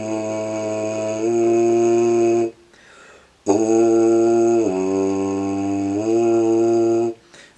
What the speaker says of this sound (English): So I'll play some long tones.